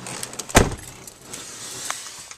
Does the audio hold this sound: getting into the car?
yes